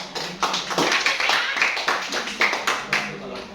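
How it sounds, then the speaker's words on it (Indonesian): A classroom of students claps after a group presentation, with uneven bursts of hand claps and taps rising and falling over a few seconds alongside some voices. "kasih tepuk tangan lagi"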